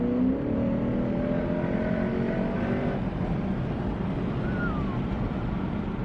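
A 2019 Lexus RC F with an Invidia Q300 cat-back exhaust and mid-pipe revving hard, a loud steady exhaust drone with rising and falling pitch, heard up close and continuous throughout.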